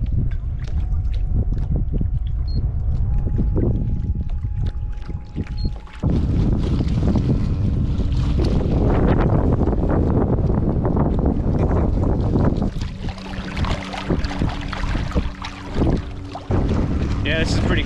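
A small kayak motor drones on water amid wind buffeting the microphone and splashing, continuous and close, with occasional voices underneath.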